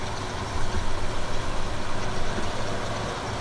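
Semi-tractor truck engine idling in Farming Simulator 2015: a steady low diesel rumble with a faint rough pulsing, continuous and fairly close throughout, with no talk.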